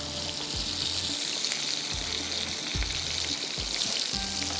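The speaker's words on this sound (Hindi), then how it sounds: "थोड़ा सा इसको और फ्राई करके मिर्चों को हल्का सा जलाएँगे" Chillies sizzle and fry steadily in an oil-filled pan while fish is being prepared, a continuous bright crackle with a few soft stirring knocks, close and fairly quiet, no voices.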